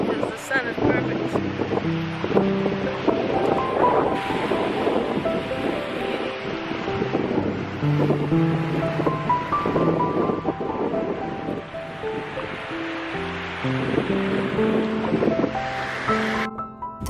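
Ocean waves breaking steadily at a beach, continuous surf with a rushing wash and some wind buffeting the microphone, loud and close throughout with no distinct voices.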